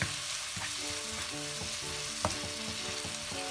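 Tomato and egg stir-fried in a pan, cooked down until soft and mushy, sizzling steadily and close up with repeated scrapes and stirring clatter throughout, no voices.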